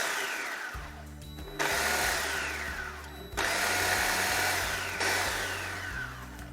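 A blender pulsing almonds and sugar, three loud whirring bursts in a row, each starting with a rising motor whine and grinding rattle, close and alone.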